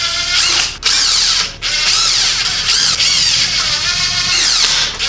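A hand ratchet clicks steadily and loudly up close as motorcycle bolts are tightened in a crisscross pattern, forming a continuous rapid pawl chatter broken by two brief pauses where the tool is repositioned.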